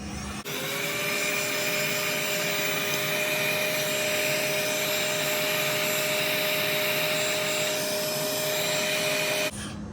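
Kydex plastic is heated for a knife sheath under a loud, steady blowing whine that starts abruptly, runs for about nine seconds without change and then cuts off.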